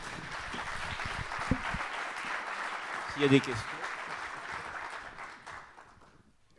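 Applause from an audience at a French-language round-table conference, a dense wash of clapping that fills the room and gradually fades out, with a person speaking over it.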